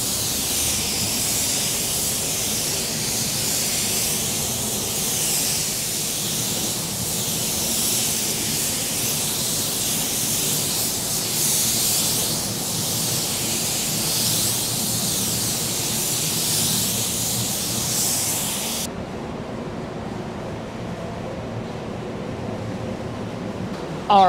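A spray gun lays down base coat during a car paint blend, a loud continuous hissing spray that swells and eases in passes for most of the stretch, then cuts off into near quiet.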